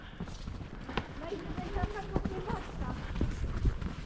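Horses' hooves clip-clop on an outdoor ride, a busy run of irregular thuds under people talking nearby.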